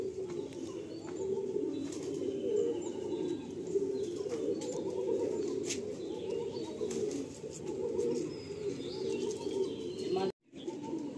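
Pigeons in a loft at a Ranihati pigeon sale, a pair being let go, with steady cooing and chirping from the flock, some wing flapping, and a brief drop near the end.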